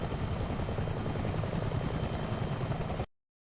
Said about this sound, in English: Tomai taking the lead with the UH-1.